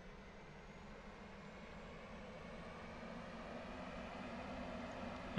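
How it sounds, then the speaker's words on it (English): Steady whirring drone of an L-39 jet engine cranking over during startup in DCS flight simulation, a continuous broadband hum that rises slightly and holds evenly, close and moderately loud, with no talk. "We can hear it cranking in now."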